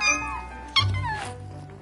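A cat meows at home, a few clear, rising-and-falling calls about a second long near the middle, fairly close and alone, with low room noise underneath.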